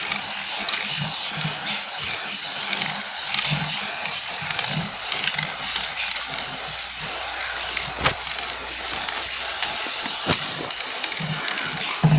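Spray painting with a spray gun: a continuous broad hiss of paint spray running steadily throughout, with faint knocks and handling sounds underneath.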